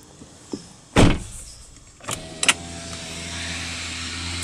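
A 2017 Hyundai Sonata Sport's door shuts with one solid, close thud, preceded by a faint click and followed by a couple of latch clicks and a low steady hum, with no talking.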